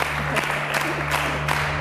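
Scattered applause from a small TV game show studio audience over a steady low hum, with a few louder bursts of clapping.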